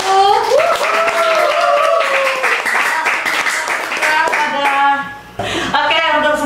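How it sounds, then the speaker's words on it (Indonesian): Podcast participants clap their hands together in a brief round of applause, steady and close, mixed with voices and tonal sounds layered over the clapping. "tepuk tangan dulu."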